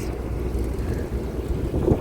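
Steady low rumble of a tour boat moving through water between rocks on the Lower Dells, Wisconsin Dells, with wind buffeting the microphone and no voices.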